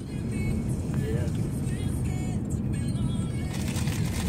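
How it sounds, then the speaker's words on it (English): A Honda car drives past on a road near a bridge, its steady engine and tyre rumble filling the scene at moderate distance, with voices talking faintly over it. "I can see two old grandparents driving a Honda."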